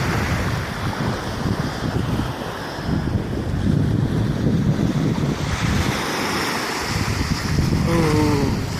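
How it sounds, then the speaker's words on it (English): Ocean surf and gusting wind at Indian Rocks Beach, Florida, a continuous loud rush of breaking waves buffeting the microphone, with no talk. "This is Indian Rocks Beach, Florida"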